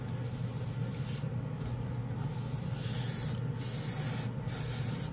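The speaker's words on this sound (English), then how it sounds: "Look at how good this thing sprays. It atomizes the paint somehow terrifically." A Testors Aztek airbrush sprays red paint inside a spray booth while being cleaned out, giving a steady, close, continuous airy hiss with slight surges that lasts the whole stretch, with no talking.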